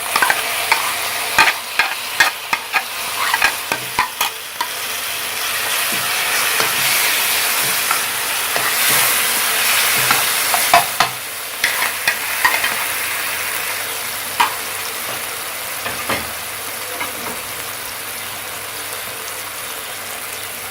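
Eggplant pulp frying with roasted cumin in a pan, a steady close sizzle with hiss and steam, broken by frequent sharp scraping clicks of stirring, no voices.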